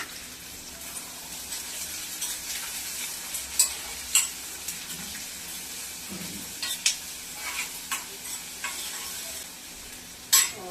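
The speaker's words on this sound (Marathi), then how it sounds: "कांदा छान परतून घेते." Onions sautéing in a pan for a simple okra (bhindi) dish, giving a steady soft sizzle throughout with intermittent scraping stirs and small clicks of the spatula against the pan, fairly close and with no talking.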